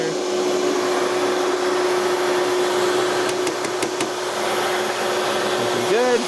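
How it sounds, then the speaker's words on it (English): A vacuum seeder running while seeds are set into cell trays, giving a steady, loud motor drone throughout with a few faint light clicks partway through and no talking. "Cut the vacuum."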